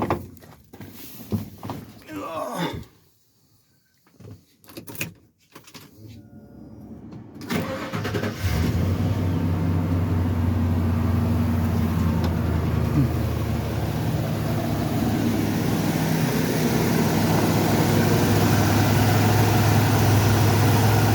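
A car engine fitted with a new serpentine belt and tensioner cranks after a few seconds of clunks and handling noises, catches, and settles into a steady, close idle with no squeal.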